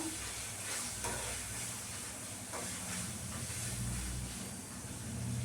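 Turmeric mixture stirred in a pan while cooking a spinach dish, giving a steady faint sizzle and hiss with soft scraping strokes throughout, no talking.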